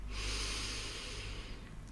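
One long, steady inhale through the nose, soft and close, lasting about two seconds with a breathy hiss.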